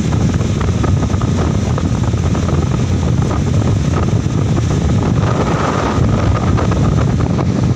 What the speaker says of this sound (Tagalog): Breeze na breeze talaga po.